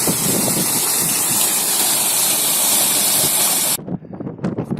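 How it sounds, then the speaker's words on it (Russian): Strong wind roaring through a gorge in Turkey, a loud continuous gusting rush that buffets the microphone, cutting off abruptly near the end into quieter, uneven gusts. "Ух ты, блин, вот это ветер."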